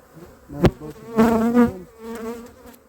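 Honeybees buzz around hive frames in a January hive check, a close, wavering drone that swells and fades, with a sharp tap near the start.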